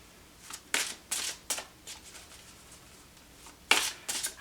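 Tarot cards shuffled by hand, a series of short riffling bursts in an irregular rhythm with quiet gaps between them, close and fairly soft, no voices.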